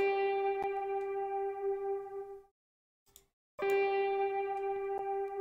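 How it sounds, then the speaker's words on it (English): A single sustained synth note with reverb, produced in FL Studio, rich and steady with a bright harmonic tone. It cuts off into a brief silence, then the same note returns at full level. "It's just a synth that I put on like a reverb"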